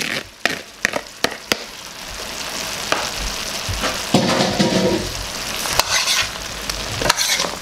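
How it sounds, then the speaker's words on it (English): Rice and pigeon peas tipped into a hot pelau pot with pigtail, opening with several sharp clattering knocks, then a loud burst of sizzling and scraping as the grains hit the pot, settling into ongoing frying crackle with occasional taps. "Now I'm going to add the rice and the peas."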